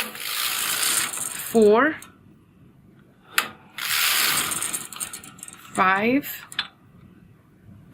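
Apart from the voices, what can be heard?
knitting machine carriage moving across the needle beds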